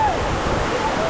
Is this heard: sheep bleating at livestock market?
no